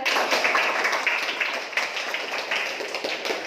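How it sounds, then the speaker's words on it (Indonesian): A classroom of students clapping their hands together, a dense, steady patter of many small claps sustained throughout at moderate loudness. "Tepuk tangan ke kanan semua."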